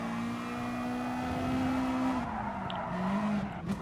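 A race car in Gran Turismo Sport, on dry tyres on a wet track, brakes hard into a corner: a steady loud engine drone drops in pitch partway through as the car slows, with no talking.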